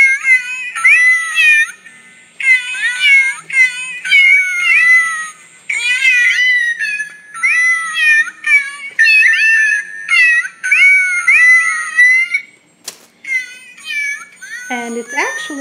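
A singing birthday card plays a cat-themed tune made of repeated electronic meows, loud and close in rhythmic phrases, with a brief sharp click near the end.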